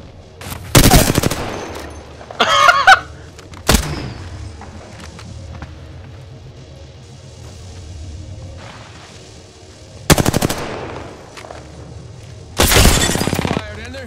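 Loud bursts of gunfire in a video game played with a controller on PC, several sharp volleys spaced through the span with quieter gaps between them and a voice speaking in between.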